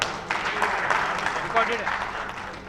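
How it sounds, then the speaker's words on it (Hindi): Scattered audience clapping at a political speech, mixed with crowd noise and voices, moderately loud and sustained. "जोरदार तालियां इस बात के लिए"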